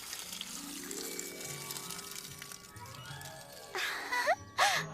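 Water poured onto young pumpkin plants in a garden, a soft steady flow under tonal background music, followed near the end by two short sharp splashing bursts.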